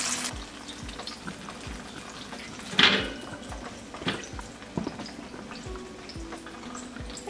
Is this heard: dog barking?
no